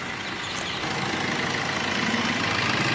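A 2013 Tata Vista Quadrajet diesel engine idles with a steady, low rumble continuously at close range, with a constant throbbing hum and no talking.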